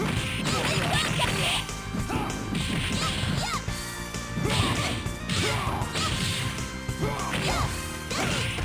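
Cyclops optic blast attacks landing in Marvel Super Heroes vs Street Fighter on Sega Saturn, a rapid series of loud smashing hits and whooshing blasts over game music, repeating in bursts throughout.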